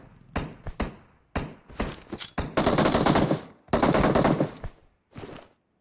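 Gunfire in a third-person battle royale shooter crackles in repeated bursts, with short taps and longer sustained automatic volleys, loud and close, separated by brief pauses.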